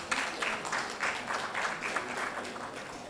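An audience at a conference felicitation ceremony claps together, a steady patter of applause with small rhythmic swells, heard at a moderate distance and fairly quiet.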